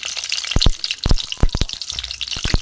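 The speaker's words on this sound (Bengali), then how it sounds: "দিয়ে এখানে আমি কয়েক কোয়া বড় রসুন একটু ভেজে নেব।" Large garlic cloves fry in plenty of mustard oil in a kadai, giving a steady hiss broken by several sharp close clicks and pops spread through the moment.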